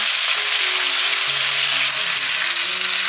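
Shiitake mushrooms stir-fry in a hot wok, sizzling loudly and steadily without a break, with no voices heard.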